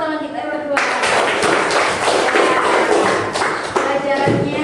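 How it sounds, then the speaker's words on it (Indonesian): Fourth-grade pupils in a primary school classroom break into a burst of applause for two classmates, a dense, close clatter of many hands lasting a few seconds and fading out, with voices mixed in. "Kasih aplaus buat teman kita yang berdua"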